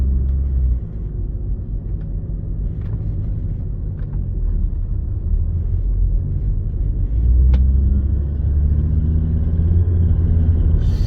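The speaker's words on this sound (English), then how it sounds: "let's go for a little drive now. Seatbelt on. And here we go." Volvo S60 D5 with an automatic gearbox driving along, its diesel engine a steady low rumble with road noise, constant and close with a slight swell near the end.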